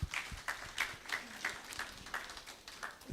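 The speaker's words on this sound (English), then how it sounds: "Can we please give a big round of applause to ourselves?" An event audience claps together, a thin, fairly quiet spread of hand claps with regular bright accents, sounding a little distant and sustained across the moment.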